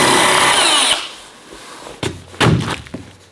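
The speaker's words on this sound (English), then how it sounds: "we're going to use these tap cons and our new hammer drill to attach the" A hammer drill driving Tapcon screws into concrete, with a loud close burst of whining, rattling drilling that stops after about a second, then several heavy thuds and knocks.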